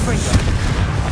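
A Confringo fire spell cast in the Hogwarts Legacy video game bursts into a loud, booming blast near 0.35 s, surrounded by dense roaring combat noise throughout the short moment.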